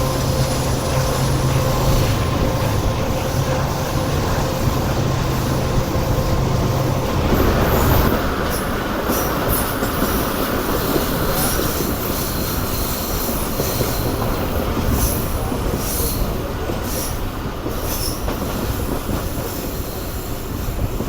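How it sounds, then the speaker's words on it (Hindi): A Subak Raftar railcar brakes slowly down a gradient, wheels squealing in high sustained tones over a loud continuous rumble and rattle of the carriages. "ब्रेक्स लगा लगा कर ट्रेन नीचे उतर रही है आहिस्ता आहिस्ता"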